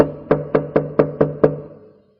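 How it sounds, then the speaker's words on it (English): Knocking on a wooden door, struck harder the second time: six sharp, evenly spaced raps in a steady rhythm, close and fairly loud, with no other sound around them. "She didn't answer, so he knocked again, louder."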